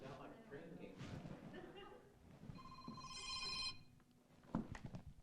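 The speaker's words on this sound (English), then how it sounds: "Now that's my phone." A mobile phone rings mid-study with a steady repeating electronic ringtone for about a second, fairly clear over background talk and room noise from a group setting.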